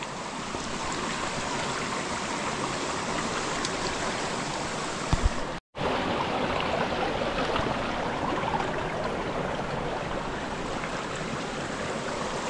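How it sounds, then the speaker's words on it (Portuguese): Clear stream water flowing steadily along a forest trail, a continuous close rushing and trickling sound with a brief dropout midway. "Estamos chegando perto de um córrego."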